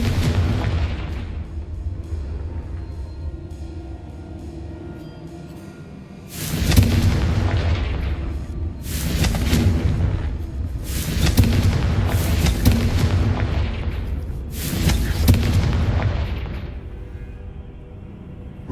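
Confringo spell explosions in Hogwarts Legacy: after a low rumbling stretch, five loud, booming blasts arrive in a row at irregular intervals, each with a long decaying tail.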